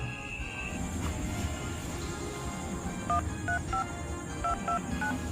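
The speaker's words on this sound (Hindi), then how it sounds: "तो चलिए, तो कंप्यूटर जी, लेडी के पास फोन लगाया जाए।" A telephone dials a call, a short run of clear electronic keypad tones beeping one after another near the end over low background hiss, with no one speaking.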